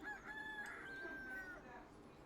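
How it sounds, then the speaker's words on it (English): A rooster crows in the tavern video game Tavern Talk, one long, clear cock-a-doodle-doo rising and holding over a faint background hum, fairly quiet overall. "Cock-a-doodle-doo!"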